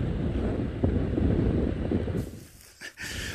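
Hot, strong wind on an African safari buffets the microphone in loud, rumbling gusts that ease off near the end, leaving a few brief knocks.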